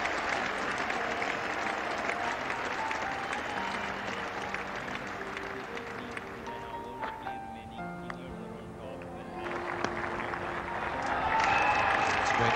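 Cricket crowd at Lord's applauding a batsman reaching fifty in a 1984 Test against England: continuous clapping from a large, distant crowd that dips in the middle and swells again near the end.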